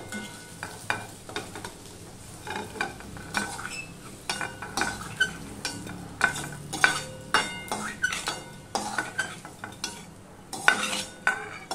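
Fried potatoes for a Bengali vegetarian aloo tarkari scooped from a hot wok with a metal spatula: repeated close scraping and clinking strokes over a soft sizzle, with no talk.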